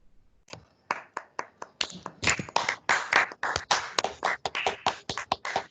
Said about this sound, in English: let us honor them by giving them a round of applause